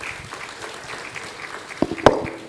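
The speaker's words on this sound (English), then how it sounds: "A round of applause," Light applause from a panel-discussion audience on climate and extractive communities, modest and scattered, with a few sharper claps and a knock standing out near the end.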